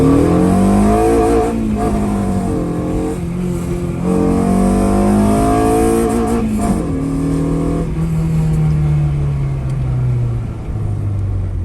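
An upgraded 600HP+ car prepared for a drag event is driven hard, its engine roaring loud and close as the pitch climbs, dips at shifts and climbs again across steady acceleration.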